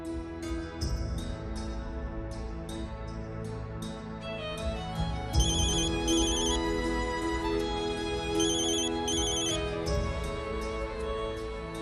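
A phone ringtone plays indoors as a repeating melodic electronic tune with bright chiming notes, steady and fairly loud throughout with no talk.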